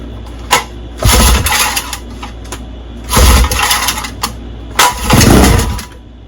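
A 1958 Johnson 7.5 HP outboard motor pops into brief firing bursts after starter spray, three loud sputtering runs of about a second each separated by quiet pauses, close up with no talk.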